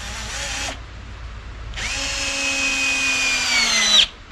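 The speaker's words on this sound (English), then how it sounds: "They're going to be screwed into the sides of the bottom." A cordless power drill drives screws into the thin wooden sides of a flume, two close, loud whirring bursts, a short one and then a longer one that ends with a sharp stop.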